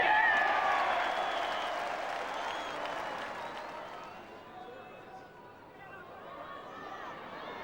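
A rugby league crowd of over 5,000 at Humberside roars and applauds after a late injury-time try, a broad wash of cheering that is loudest at first and slowly fades, with a commentator talking over it.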